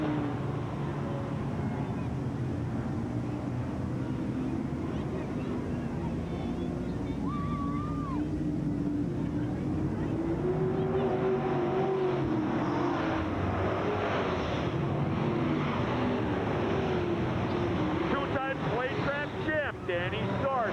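Stock race cars running door handle to door handle through corners 3 and 4 in an oval race, their engines a continuous roar that rises and falls in pitch, with crowd and track ambience and some wind.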